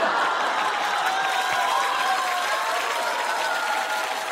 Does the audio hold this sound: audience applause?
yes